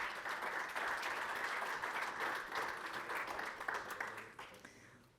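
Audience applause at an entrepreneurship awards ceremony in Lisbon, a steady dense wash of many hands clapping at moderate distance that tapers off near the end.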